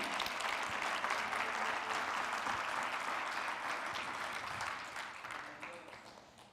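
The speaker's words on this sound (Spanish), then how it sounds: "Si va a aplaudir, aplauda bien." Church congregation applauding during a sermon, a steady wash of many hands clapping at moderate distance, holding evenly and then fading away over the last couple of seconds.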